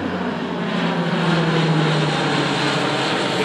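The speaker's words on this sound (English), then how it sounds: "This is a low-flying plane over Shorewood Beach." Low-flying air force propeller plane passing over a beach, a loud continuous engine drone with a steady low hum, heard close and alone for several seconds.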